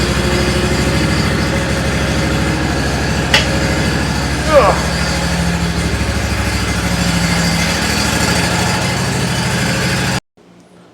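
A riding mower's small engine idles steadily and loudly close by for about ten seconds with a brief click and squeak partway as the motion control levers move, then cuts off abruptly.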